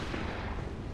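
Gunfire from the video game Bloodborne, a dense, continuous burst of loud, broadband blasts filling the whole second with no talk over it.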